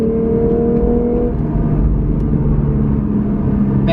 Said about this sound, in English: I can probably go full throttle second to third